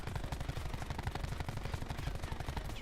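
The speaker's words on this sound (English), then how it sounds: "I'm going to aim down sight and just fire." Weapon fire in Black Ops 4, aimed down sights, comes as a rapid, steady string of punchy reports that carries on for the whole stretch, loud and close with no talking.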